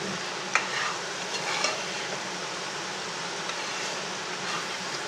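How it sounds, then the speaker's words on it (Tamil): Chicken fries in plenty of ghee for a ghee roast, with a steady, close sizzle and the odd scrape of stirring. "அந்த அளவுக்கு ஃப்ரை பண்ணிக்கிட்டே இருங்க"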